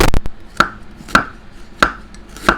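A knife slices through galangal on a cutting board for nam prik kha, four sharp, evenly spaced chops ringing out close and clear with quiet pauses between them.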